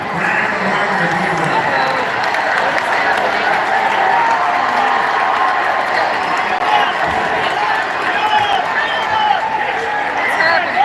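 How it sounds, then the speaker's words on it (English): Dense crowd noise at a Trump rally, steady broadband clapping and cheering filling the whole stretch without a break, with voices mixed into the roar. "Everybody's clapping and getting excited."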